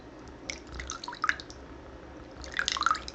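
Warm soapy water drips and trickles into an orange bowl at close range, a few light plinks and splashes in two short bursts over a quiet background.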